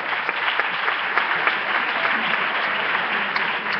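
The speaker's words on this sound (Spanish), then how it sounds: "Queremos que nos deis el aplauso ahora, por favor." Sustained audience applause at a plenary session of a healthcare congress in Córdoba, steady dense clapping filling the whole stretch with no talk over it.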